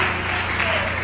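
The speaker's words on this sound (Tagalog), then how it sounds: "Palakpakan natin lahat ang ating pinakamamahal na Jesus" A large church congregation applauds continuously, a dense wash of clapping with a low hum underneath, sustained and even.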